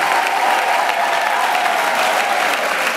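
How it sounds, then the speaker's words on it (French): An audience at a diploma ceremony applauds the graduates and the officials seated in front, a steady, even wash of clapping that holds at the same loud level from start to finish. "Je vous demande de les applaudir, ainsi que toutes les autorités qui sont devant."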